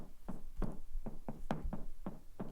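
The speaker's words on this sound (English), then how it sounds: "It's like a room knock." A room knock drum sample: eight sharp, hollow knocks in a quick uneven rhythm, each with a short roomy ring, heard alone.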